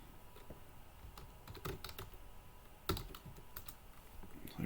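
Typing on a computer keyboard while filling in a software search form: clusters of light, quick keystrokes in irregular bursts, close and fairly quiet, with no voices.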